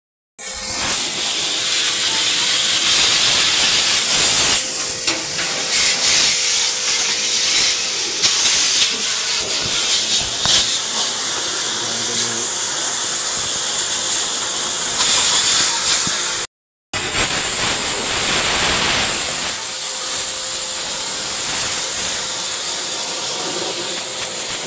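Water sprayed hard and steadily onto a dirty Midea split-type inverter air conditioner during cleaning, a loud continuous hiss that runs almost unbroken, cutting out for an instant before resuming.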